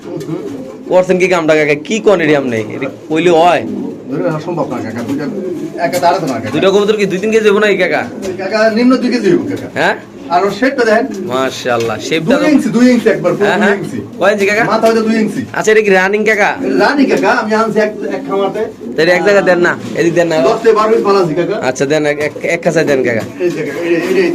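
Pigeons coo repeatedly in low, throaty bursts, heard alongside steady nearby chatter from people talking over them.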